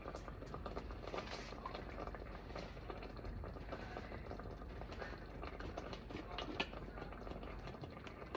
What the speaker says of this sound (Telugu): ఇట్లా బాగా ఉడకనియాలండి సన్న సైడ్